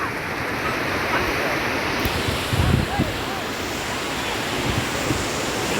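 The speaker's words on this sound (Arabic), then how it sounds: "اليوم صورت معكم البحر" Sea waves wash onto a beach in a steady, continuous surf roar mixed with wind noise on the microphone, a slightly louder swell breaking midway.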